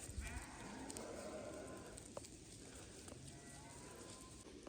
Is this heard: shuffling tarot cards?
no